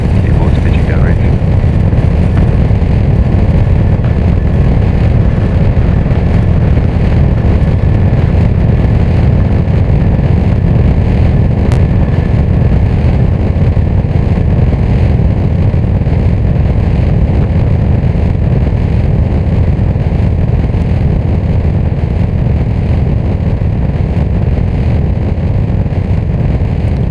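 A Falcon 9 rocket roars during its launch climb on a Space Development Agency Tranche 0 mission, a loud, unbroken low rumble filling the whole stretch, with a voice faintly heard over it.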